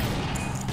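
Gunfire rings out in the Secret Ponchos video game, a short loud blast of overlapping shots with a dense crackling tail lasting under a second.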